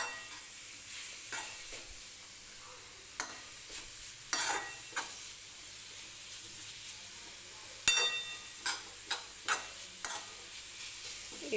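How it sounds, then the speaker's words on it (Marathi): Grated beetroot sautés in ghee in a pan, a faint low sizzle broken by intermittent scraping strokes of a spoon, some sharper clinks spaced irregularly. "एक 2-3 मिनिटे हे बीट जे आहेत ते मी तुपामध्ये परतून घेते"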